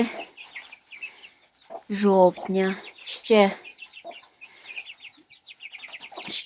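Young chickens, about a month old and including young roosters, cluck and peep close by, with a couple of louder squawking calls in the middle while a person speaks briefly.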